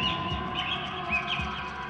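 Bright chirping European robin song with short warbling phrases, fairly close, over a steady background hum.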